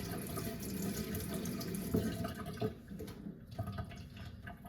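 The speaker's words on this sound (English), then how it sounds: "So I'm just gonna give this blade a quick rinse." Tap water runs steadily over a knife blade being rinsed in a sink, a continuous close splashing flow that thins out toward the end.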